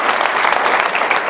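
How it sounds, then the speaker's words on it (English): A conference audience applauds in steady, dense clapping that stays loud and even from start to finish, with no voices standing out. "You should give everybody here a round of applause."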